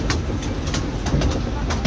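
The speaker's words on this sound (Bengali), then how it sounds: "এখন আছি টয় ট্রেনে। এই টয় ট্রেন আপনাকে পুরো পার্কটা ঘুরিয়ে দেখাবে" A toy train ride at Nicco Park amusement park in Kolkata gives a continuous loud rolling rumble and rattle of wheels for the whole stretch, with faint background sounds mixed in.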